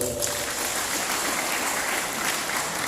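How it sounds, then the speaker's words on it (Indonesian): An audience at an anniversary gathering of a regional forum in East Lombok claps continuously for a few seconds, a dense, even applause filling the room. "Tolong beri aplaus untuk beliau"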